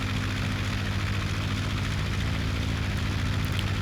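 Steady, droning engine roar of a Typhoon fighter aircraft in Aces High 2, a continuous low hum with no break, close and fairly loud.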